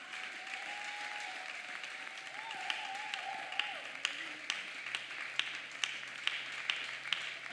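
A church congregation applauding, steady massed clapping with scattered louder individual claps toward the end, while a voice sings or calls faintly beneath.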